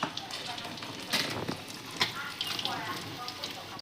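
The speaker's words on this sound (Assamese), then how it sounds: "এইটো মই মাছ ফ্ৰাই কৰি আছোঁ।" Fish frying in a pan in a home kitchen, a steady crackling sizzle with brief louder pops, close by and continuous throughout.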